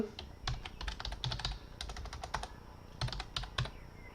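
Rapid clicking keystrokes on a computer keyboard, typed in quick irregular bursts with short pauses, close and clear, with no voices.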